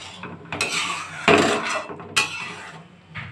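A cooking pot of fish curry with elephant-foot yam is lifted off the stove, giving several loud metallic clanks and scrapes of cookware in a quiet kitchen.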